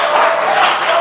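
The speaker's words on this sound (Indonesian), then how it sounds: "Tepuk tangan dulu." An audience at a gathering breaks into brief applause, a loud burst of clapping mixed with crowd voices.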